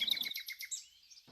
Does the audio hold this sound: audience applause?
no